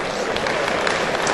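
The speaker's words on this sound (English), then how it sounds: "give a good round of applause there" A crowd applauds at a Scottish fat stock livestock show as steer champions are led out: a dense, continuous wash of clapping at a steady level, with an announcer's voice faintly under it.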